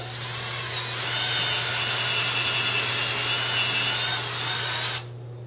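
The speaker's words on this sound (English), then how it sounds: "This is what's known as a regular twist drill for drilling into wood." A power drill with a twist bit whines steadily as it bores into a wooden board, one continuous high-pitched run up close that stops abruptly near the end.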